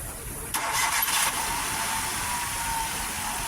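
A Maruti WagonR car engine, freshly fitted with a new ignition coil, cranks and catches with a brief loud burst, then settles into a steady close idle with no talk.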